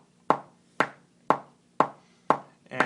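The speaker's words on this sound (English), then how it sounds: "So find your metronome." A metronome set to 120 beats per minute ticks six times at an even pace, each tick a crisp, clear click that decays quickly, with nothing else heard.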